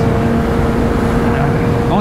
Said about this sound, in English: but I thought let me just warm the bike up a little bit.